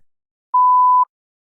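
A single steady electronic test-prompt beep sounds for about half a second, clean and loud against silence.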